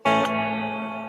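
An electric guitar chord rings out through a reverb effects unit, struck once sharply and then sustaining with a long, slowly fading wash of tone, close and loud with no talking.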